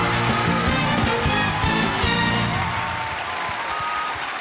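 Audience applause for the 12 selected Miss pageant candidates, steady clapping over music that fades out near the end.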